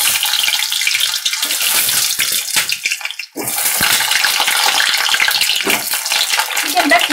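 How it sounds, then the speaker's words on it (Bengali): Potatoes frying in a pan of oil and ghee give a loud, steady sizzle and crackle, with a brief dip partway through; no one speaks. "আর আলু আমি ভেজে নিচ্ছি।"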